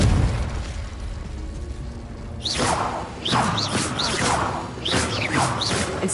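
Fiery Confringo spell blasts in the Hogwarts Legacy video game, a quick run of whooshing bursts and booming explosions after a short rumbling lead-in, loud and close, with no voices.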